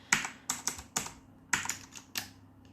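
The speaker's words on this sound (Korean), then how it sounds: "키보드 딱딱거리는 소리 진짜 듣기 싫네" Close, crisp keyboard clacks come in quick bursts of a few keystrokes each, separated by short pauses in an otherwise quiet room.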